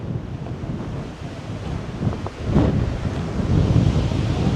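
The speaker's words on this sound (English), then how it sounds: "That wind is brutal." Strong wind roars across an exposed Rocky Mountains summit in snowy, high-wind conditions, a steady loud buffeting rush against the microphone that swells stronger in gusts toward the end, with no talking.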